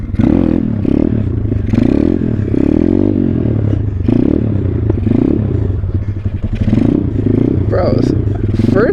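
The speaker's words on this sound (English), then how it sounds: "the pit bike, she ain't running good" A pit bike engine in poor running condition, idling and revving unevenly with a rough, sputtering drone and rattly clatter that rises and sags throughout, loud and close, while someone talks over it.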